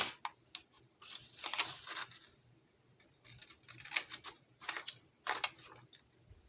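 Scissors snip through paper at the corners of a tiny handmade junk-journal envelope, a series of short, crisp, close cuts in irregular bursts with quiet pauses between.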